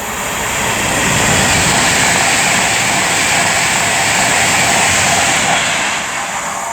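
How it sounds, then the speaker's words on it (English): An Avanti West Coast Class 390 electric train, unit 390-001, passes close by at Tamworth with a loud, sustained rushing roar and rolling rail noise that swells and holds before easing slightly at the end. "now approaching will be 390-001 for Avanti West Coast, working 1 Alpha 51 from Manchester Piccadilly to London Euston."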